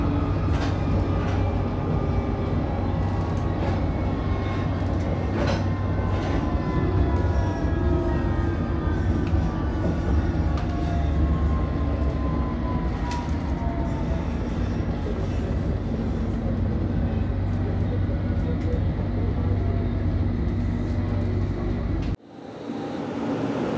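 A London Underground Metropolitan Line train runs steadily on the Uxbridge branch near West Harrow, with a loud, continuous low rumble, wheel hum and faint squeals. It cuts off abruptly near the end.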